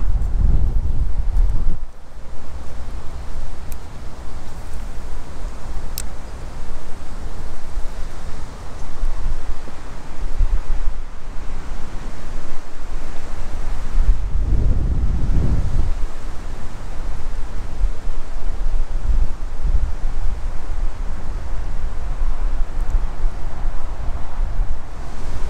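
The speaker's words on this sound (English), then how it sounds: "It's windy." Wind blows outdoors on a fishing outing near water, steady gusting rumble buffeting the microphone, with stronger low bursts near the start and midway.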